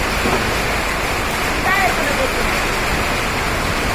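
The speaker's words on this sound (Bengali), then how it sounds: "বৃষ্টি দিয়ে এলো" Heavy rain pours down in a dense, steady hiss throughout at Sadarghat river port in Dhaka, with a faint voice briefly audible beneath it.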